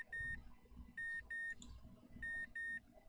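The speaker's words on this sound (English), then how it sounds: "Oh, alarm." A video game alarm sounds in clipped electronic beeps, five short tones in quick pairs and singles over a faint low rumble, with no talking.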